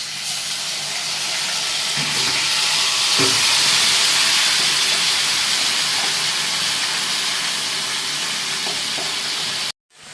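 Marinated chicken goes into a hot pan of fried onions, giving a loud, steady sizzle and hiss that holds for about ten seconds with a few soft stirring knocks, then cuts off abruptly.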